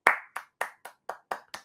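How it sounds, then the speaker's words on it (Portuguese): Seven crisp hand claps ring out at a steady pace during a talk on the origins of the Arab peoples, each clap sharp and separate, with no other sound between them. "Palmas para Abraão."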